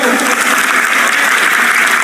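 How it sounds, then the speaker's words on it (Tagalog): Applause from an audience at a Palarong Pambansa speech, a steady wash of clapping that is thin and short-lived, lasting about two seconds with no voices standing out. "Tingnan nyo, napilitan lang pumalakpak."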